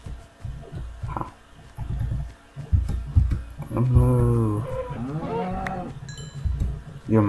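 A Minecraft cow moos twice in long, drawn-out lowing calls, close and fairly loud, with other game sounds and a voice talking around them.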